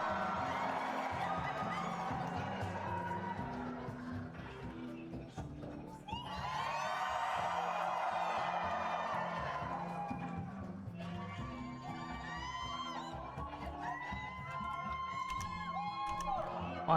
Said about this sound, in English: why are they suddenly cheering?